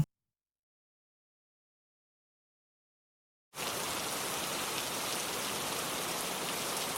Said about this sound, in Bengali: ওই রাত্রে অনেক ঝড় বৃষ্টি হচ্ছিল।